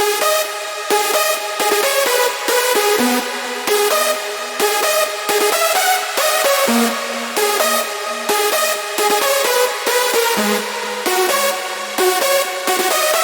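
A bright, layered synth lead for a big room EDM track plays a staccato melody alone, with short rhythmic stabs and occasional sustained low notes, steady and loud with no voices.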